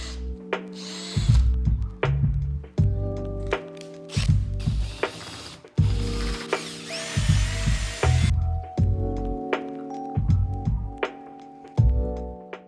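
A power drill bores into a wooden hand plane handle in repeated whirring bursts with short pauses between them, close and loud, with ratcheting clicks of the chuck in between.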